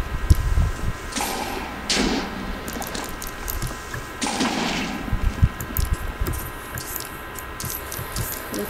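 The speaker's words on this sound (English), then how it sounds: "blowing up the creepers is kind of fun" Explosions of creepers in Minecraft, a few sharp bursts spaced across the span with a steady game hum between them.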